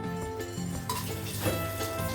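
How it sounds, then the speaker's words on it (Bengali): Whole spices (black pepper, green cardamom and cinnamon) fry in a pot for veg soya pulao, a soft sizzle under the scraping and clinking of a utensil stirring against the metal, close and steady. "এটাও খুবই সুন্দর খুশবু আসা পর্যন্ত ভেজে নেব"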